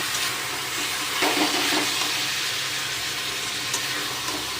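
Meat with whole cumin seeds sizzles steadily in a pan, with a little water just added, giving a continuous close frying hiss with a few brief clinks and stirring movements.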